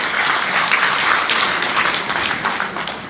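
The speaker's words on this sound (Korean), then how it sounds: "우리 멀리서 영상 보내주신 나경원 의원님께 응원의 박수 한번 부탁드립니다." Dense, steady applause from an audience at a book launch event, sustained at an even level with no pauses for the whole stretch.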